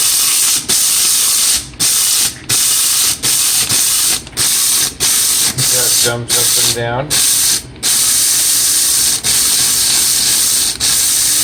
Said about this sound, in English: here's the pulsing method because you don't want to just grind like crazy